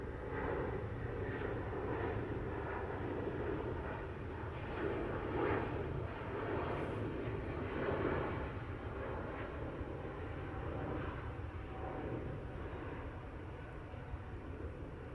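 An airliner, an Airbus A350 or Boeing Dreamliner, departs runway 09R at Heathrow Airport with a continuous broad jet engine roar, steady and moderately distant, swelling slightly midway.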